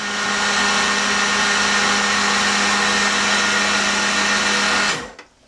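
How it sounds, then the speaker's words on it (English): A food processor grinds powdered milk into a fine texture for homemade hot chocolate, a loud steady whir with a constant motor hum that runs unbroken for about five seconds, then cuts off abruptly as the blade spins down. "this is where the food processor will really help to break this down into that finer texture that I want"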